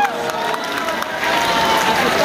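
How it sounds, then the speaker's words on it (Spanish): A crowd cheers and applauds a voice actor at a live fan event, a loud, continuous wash of clapping and excited voices that swells after the first second. "Ahí pueden aplaudir, tal vez,"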